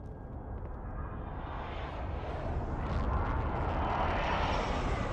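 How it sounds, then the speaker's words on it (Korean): Bomber aircraft in Call of Duty Warzone, a heavy, rumbling engine drone passing overhead that swells gradually louder and broader, sustained without speech. "폭격기 부르고 난리 났네"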